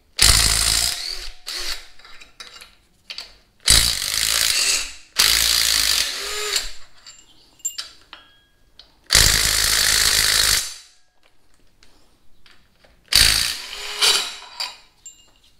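A battery-powered impact tool works on a bracket bolt on a Sierra pickup in several loud, close bursts of rapid hammering, separated by quiet pauses and faint clinks.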